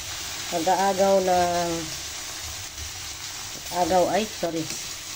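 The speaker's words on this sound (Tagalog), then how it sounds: "So habang nagigisa yan siya, kasi ang shrimp naman ay mabilis lang maluto" Shrimp sauté with garlic and butter in a pan with Coke added, a steady soft sizzle running throughout beneath a person speaking in short bursts.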